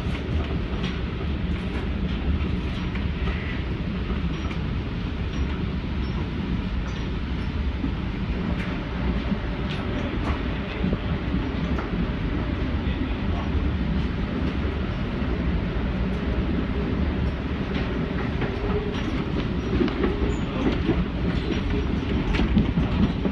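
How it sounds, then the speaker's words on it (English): Aboard an Amtrak Acela Express train arriving in Philadelphia from New York, a steady rumble and rhythmic wheel clatter fill the car as it rolls along the rails, with no voices heard. "thank you for choosing Amtrak Acela Express. We're approaching Philadelphia."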